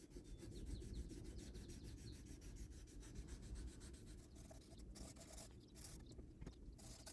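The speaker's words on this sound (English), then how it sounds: "every little part needs to be sanded up to 1200 grit now" A handmade integral knife's handle is rubbed by hand with fine 1200 grit sandpaper, giving a close, continuous rhythmic scratching of quick strokes that gets choppier near the end.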